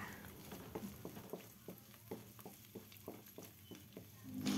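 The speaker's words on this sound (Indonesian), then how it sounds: "Kemudian kita orak-arik seperti ini." A single egg being scrambled in a frying pan for Indonesian boiled noodles, bakmi godog: soft sizzling under a quick, regular series of spatula scrapes and stirs, close up, with no talking.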